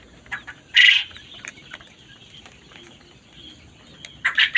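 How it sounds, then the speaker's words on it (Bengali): A large fowl-like farm bird flaps its wings hard in two short, loud bursts while being caught, with quiet rustling in between. "এই যে পাখিটা ধরে ফেললাম,"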